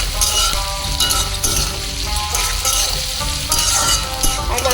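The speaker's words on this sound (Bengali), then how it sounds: "তেলের মধ্যে এলাচ, দারচিনি আর পেঁয়াজ আর একটুখানি রসুন দিয়ে এটাকে পেঁয়াজটাকে ভাজা ভাজা করছি।" Onion fries in hot oil with cardamom, cinnamon and a little garlic, a steady close sizzle with occasional clinks of a spoon against the pan.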